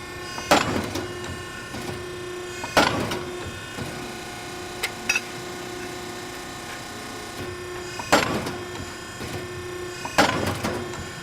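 Piranha ironworker punching holes in steel in a shop: four sharp, loud clunks spaced a few seconds apart over a steady machine hum, with no talking.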